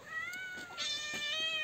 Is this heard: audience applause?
no